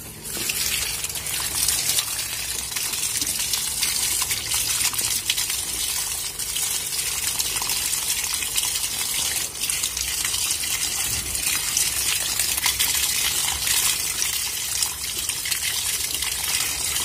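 Tap water gushes steadily and continuously while a caladium tuber is washed, a close, even rushing stream with no break.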